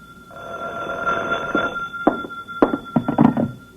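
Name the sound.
telephone ringing in old-time radio drama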